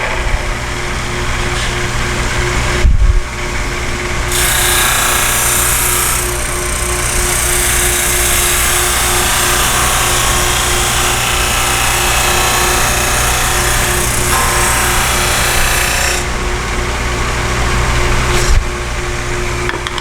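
A 16-32 drum sander runs steadily at close range, a loud broad whine and hum as a workpiece feeds through, with brief dips in the hiss near the start and toward the end and no talk.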